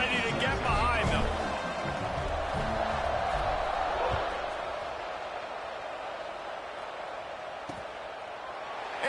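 A big crowd at a college football stadium, Michigan State at Indiana, roars and cheers at kickoff, loud and dense at first, then easing into a steady broad murmur.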